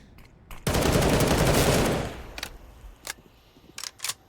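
An automatic rifle fires in a Counter-Strike match on the Vertigo map, one dense sustained burst of close shots that then tails off into a few scattered single shots.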